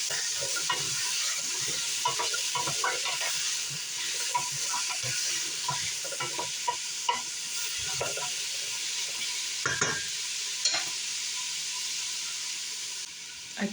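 Vegetables softening in a homemade soup pot give a steady low sizzle, broken by scattered scraping and clinking of a spoon stirring them, with no talk.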